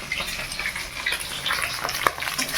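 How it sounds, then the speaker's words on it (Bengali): Eggs frying in a pan until browned, a close continuous sizzle with bubbling crackle and occasional utensil taps, no voices. "ডিমগুলো এই যে ভেজে নিচ্ছি লাল লাল করে।"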